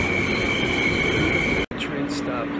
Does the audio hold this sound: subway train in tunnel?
yes